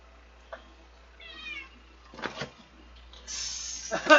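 A house cat meows a few times nearby, short and fairly faint, among soft handling noises and a low background hum.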